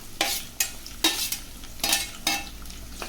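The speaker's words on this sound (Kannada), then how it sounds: "ಇದನ್ನು ಚೆನ್ನಾಗಿ ಫ್ರೈ ಮಾಡ್ಕೊಳ್ಳಿ, ಸ್ವಲ್ಪ ಕೆಂಪಗಾಗೋವರೆಗೂ." Chopped onion with ginger and curry leaves frying in hot oil for mushroom fried rice, with a sizzle broken by sharp stirring scrapes about every half second, close and loud, no voices.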